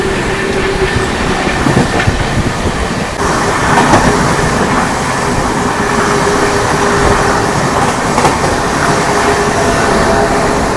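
An Amrit Bharat Express train overtakes a local train, a loud, constant roar of wheels and rushing rail noise with rumbling clatter heard from on board, steady throughout.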